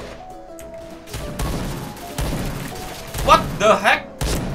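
Gunfire and booming impacts from the Indonesian Point Blank online shooter come in repeated thumping bursts and crashes, with game voice effects and a player talking over them.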